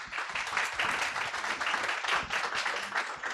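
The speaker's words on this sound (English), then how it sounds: "please give our speakers a round of applause" An audience applauds speakers at an ADRi policy event, a steady, moderately loud wash of many hands clapping with no break for the whole stretch.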